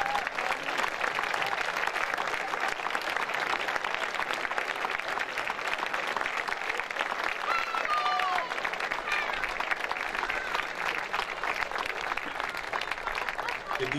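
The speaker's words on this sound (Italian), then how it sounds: "io vorrei fare, innanzitutto un applauso a tutta la banda della Guardia di Finanza" An audience at a concert by the Guardia di Finanza band applauds, with dense sustained clapping filling the hall and steady throughout, with voices faintly mixed in.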